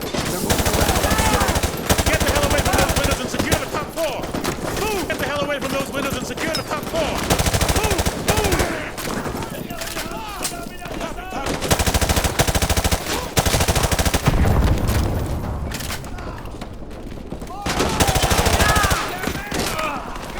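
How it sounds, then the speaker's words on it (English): Heavy, sustained automatic gunfire in the Call of Duty Modern Warfare video game, dense rapid bursts and overlapping shots filling the whole stretch, loud and close, with battle chatter and shouting mixed underneath. "We are taking heavy fire from the school."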